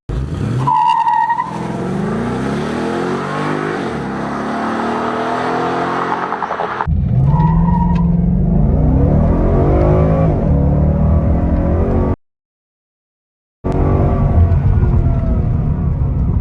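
A Ford Mustang GT launched hard in Sport Plus mode: a loud engine roar climbs through the revs with tire squeal near the start, a brief gear-shift break, then another rising pull before a short cut and more engine noise.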